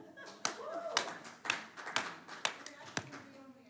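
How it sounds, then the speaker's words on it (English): Scattered hand claps from a small audience at a school district board of education meeting, a handful of sharp claps spaced irregularly over a few seconds with faint room murmur behind. "You can clap for that if you like to."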